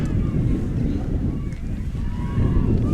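Gusty wind buffets the microphone outdoors at an ultimate frisbee match, a steady low rumbling roar across the whole stretch with faint background voices.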